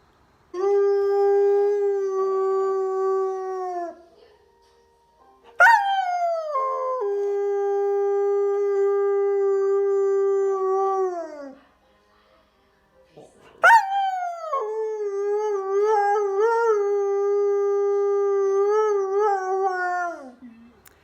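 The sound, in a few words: coyote howling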